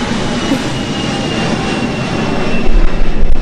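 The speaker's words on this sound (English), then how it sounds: "I'm waiting for the airplane to pass." A fixed-wing airplane passes overhead near the Venice, California airport, a steady broadband engine roar that holds even and then swells louder toward the end as it draws closer, with no voices.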